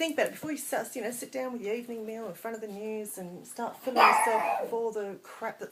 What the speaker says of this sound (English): now Daisy's starting to bark, if you're wondering what that noise is